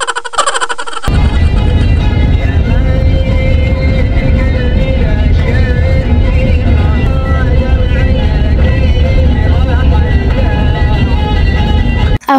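A car carries a passenger on hospital transport to the airport, with a loud, continuous road and engine rumble inside the cabin after a brief quieter start, steady until it cuts off at the end.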